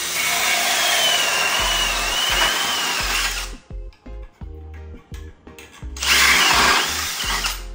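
A power drill bores a small hole in a metal plate held by two screws, a loud close whine that drops away into quieter clicks and scraping before the drill roars up again, with no one talking.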